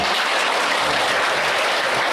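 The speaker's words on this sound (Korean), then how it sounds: "하나님께 영광의 박수 돌려야죠" Church congregation applauding together to give glory to God during a sermon seminar, a dense, steady wash of clapping filling the whole moment at even loudness, with no voice over it.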